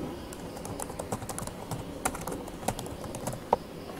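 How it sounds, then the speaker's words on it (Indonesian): Someone types a name on a computer keyboard: a quick, irregular run of close, fairly quiet key clicks with a few sharper taps, and no talking. "Kita ketikkan nama kita"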